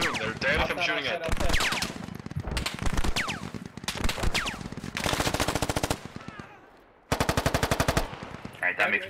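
Rapid automatic gunfire in a Squad 50v50 PVP shooter game, loud bursts of machine-gun fire repeating throughout with a short pause near the end, a voice talking underneath.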